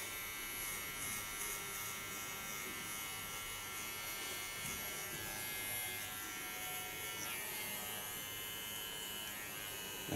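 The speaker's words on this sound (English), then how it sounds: "A small clipper." A small electric hair clipper buzzes steadily while trimming a sharp side beard and contour line on an ultra-short haircut, a continuous close, even drone with no talking.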